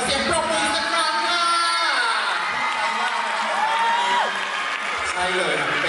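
An audience at an awards ceremony claps and cheers loudly and continuously, with shrill whoops and screams rising above it, while a presenter talks over the crowd.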